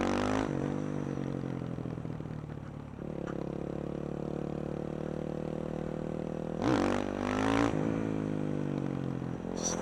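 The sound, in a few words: supermoto motorcycle engine revving during a wheelie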